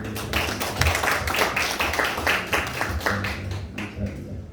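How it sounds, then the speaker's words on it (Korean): A church congregation claps in thanks for two pastors after a Sunday service, a dense, steady patter of many hands with a low hum of voices underneath, fading slightly toward the end. "감사의 박수를 올려드리겠습니다"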